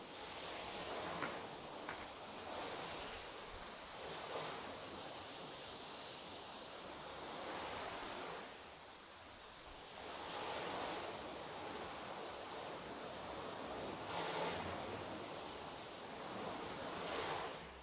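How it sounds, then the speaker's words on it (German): A steady hiss of a water jet spraying a car runs throughout, swelling and easing in long stretches as the jet moves, with no talking. "jetzt werden wir den Wasserstrahl ein bisschen härter einstellen, mit mehr Wasser drüber gehen"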